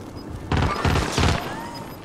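Rapid gunfire from players shooting in a multiplayer video game: three loud, close bursts in quick succession over a steady background rumble.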